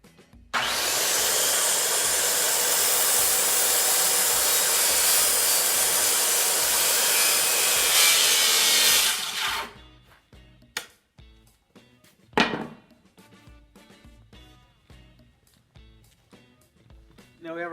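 Power saw cutting a skinny piece of wood clamped down for a brick segmental arch form, a loud continuous whining roar for about nine seconds, then stopping, followed by quiet knocks, handling clatter and a sharp thump.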